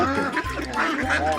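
Ducks on a Vietnamese village farm quack loudly and close by, a run of rough repeated calls overlapping one another through the whole moment.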